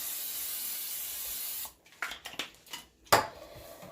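A steady hiss of aerosol spray runs for over a second, then stops, followed by a few light clinks and taps of metal.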